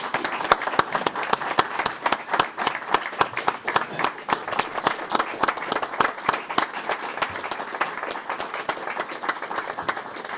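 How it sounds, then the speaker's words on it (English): Audience at a city council meeting giving a round of applause, dense rapid clapping from many people continuing steadily for several seconds with some murmured voices underneath. "Let's give her a round of applause."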